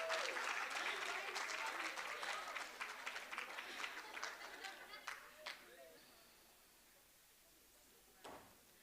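Audience applause fills the room at a young entrepreneurs event, dense clapping from a crowd that thins out and fades over several seconds, ending with a faint clap or two near the close.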